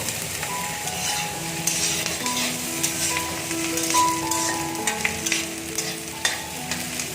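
Onions fry in a pan over medium-high flame until browning for an omelette curry, giving a steady close sizzle with frequent stirring scrapes of a spatula, continuous and fairly loud, without any voice.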